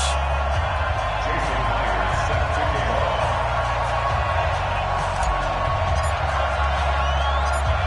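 A stadium crowd in an EA Sports NFL video game, Jacksonville Jaguars against Cincinnati Bengals, roars and cheers steadily and loudly throughout, with voices mixed into the dense wash of noise.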